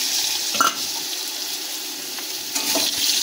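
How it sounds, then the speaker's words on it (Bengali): Cut potato pieces frying in oil, a steady bright sizzling hiss close by with a few brief crackles and pops, continuous and without speech. "তারপরে ওই তেলেতে আমরা টুকরো করে কেটে রাখা আলুগুলো ভেজে নেব"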